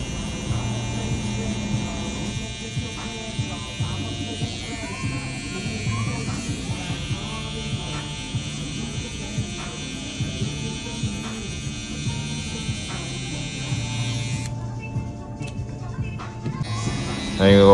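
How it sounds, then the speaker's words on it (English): Electric hair trimmer buzzing steadily while clearing neck hair during a burst fade haircut, a close continuous hum running throughout under speech. "Now we're gonna clear it out with our trimmers, and we're gonna bald it out."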